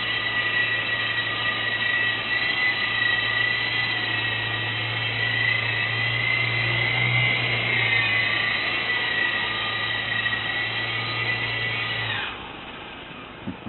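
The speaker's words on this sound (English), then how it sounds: "this is a really nice little helicopter." A small E-sky Coco Lama 2 indoor toy helicopter hovers nearby with a steady high whine and buzzing rotor hum, then its motor winds down and stops abruptly.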